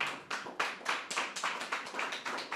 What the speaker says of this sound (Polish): Czy to jeszcze raz brawa dla pani Katarzyny?